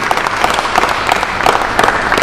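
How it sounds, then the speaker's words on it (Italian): Sustained audience applause at a civic debate among mayors in Pescara, a dense even patter of many hands clapping throughout, fairly loud and close, with no talk over it. "Facciamogli un applauso"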